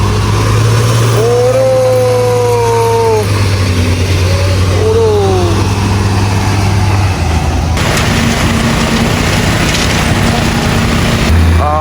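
A car engine revs and drives at a night-time concrete-pouring site, loud and close with rising and falling tones, while people talk over it.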